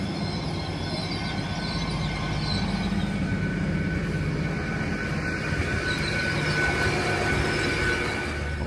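Diesel passenger train running on a line near York, a steady, heavy rumble of engine and wheels on rail that holds at a constant loudness throughout, with no voices.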